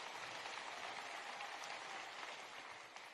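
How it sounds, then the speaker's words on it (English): Audience applause at a high school event during a presidential speech, a dense, even wash of clapping from a large crowd, heard alone and slightly distant, tapering off at the end. "That does deserve an applause."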